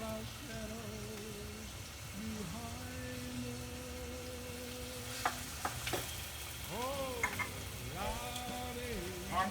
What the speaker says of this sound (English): I like to saute the herbs with the onion and the garlic